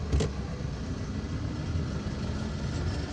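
A car drives through Algiers toward National Highway 63, its steady low engine and road rumble heard from inside the cabin, with a brief thump at the start and no talking.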